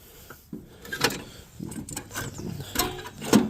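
PTO lever being moved on a Snapper mower, a series of close mechanical clunks, rattles and ratcheting clicks at uneven intervals.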